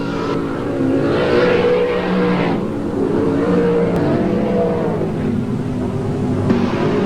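Racing cars battling for the lead in a 1986 NSW round one race on a circuit, including car number 54: loud, sustained engine roar with rising and falling revs as several cars pass close by.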